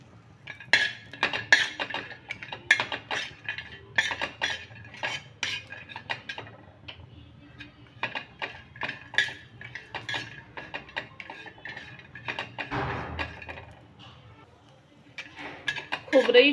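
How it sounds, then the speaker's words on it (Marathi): A metal spoon scrapes and clinks steadily against a pan as grated coconut is dry-roasted and stirred, producing quick irregular taps and scrapes throughout, with a voice speaking now and then underneath. "आता आपल्याला खोबरं भाजून घ्यायचं आहे।"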